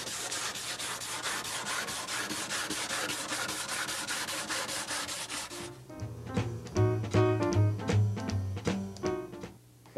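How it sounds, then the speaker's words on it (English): Hand sanding of mission oak furniture with 100 grit sandpaper: rapid back-and-forth rubbing strokes, close and steady at first, then slower, heavier scrubbing passes in the final seconds. "a sand again, perimeter, and then fill in the center, but we're using 100 grit this time"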